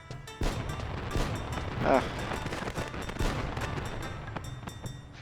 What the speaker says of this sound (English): look at those in-game fireworks